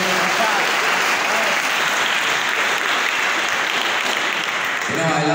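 A church congregation claps together in praise, dense continuous applause filling the room at full volume, lasting several seconds before easing slightly at the end.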